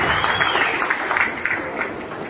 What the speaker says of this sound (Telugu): ప్రతి ఒక్కళ్ళు గట్టిగా చప్పట్లతో కృతజ్ఞతలు తెలియజేయాలి.